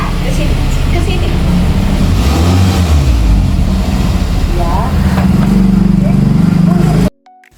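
Car engine running steadily as a family car is parked beside a house off a main road, a continuous low rumble with people talking over it, ending abruptly.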